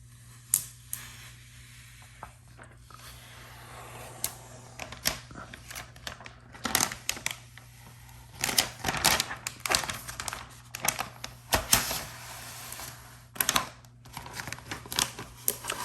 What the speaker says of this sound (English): now we're gonna pull off this back plastic here